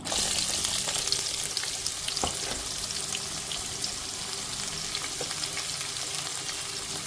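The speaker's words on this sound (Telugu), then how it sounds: "సో పోపు వేగింది ఆనియన్స్ వేస్తున్నాను" Onions fry with tempering spices in hot oil in a large pressure cooker, a loud, continuous hiss and crackle close by that stays even from start to finish.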